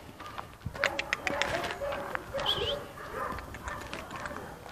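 Dog barks and yips at mid distance, in several short bursts scattered through the stretch, mixed with chirping birds and a faint voice in the background.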